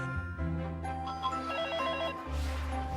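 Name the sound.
home telephone ringing in an advert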